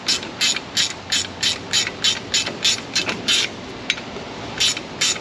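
A hand ratchet threads down bolts on the busted, rust-worn springs of a Chevrolet Silverado 5.3, giving close, loud bursts of rapid clicking in a steady back-and-forth rhythm, about a dozen strokes with brief pauses between.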